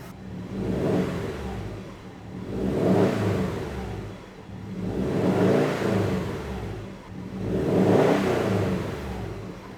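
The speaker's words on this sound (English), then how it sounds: "Gonna give it a little RPM here." A Subaru STI engine revs up and down in three or four steady swells, rising and falling in a slow rhythm, close and fairly loud, with no talking.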